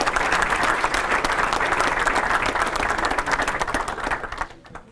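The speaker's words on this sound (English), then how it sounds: "So let's give them a nice round of applause." A hall of fame banquet audience gives a steady, full round of applause, with dense, continuous clapping throughout that fades quickly at the very end.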